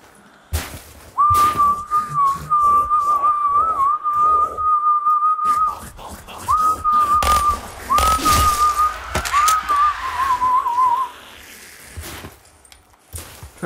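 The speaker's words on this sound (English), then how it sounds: "Try guess what tune I was whistling there" A person whistles a tune, a clear, close melody carried in sustained phrases with short breaks, over rustling and handling noises.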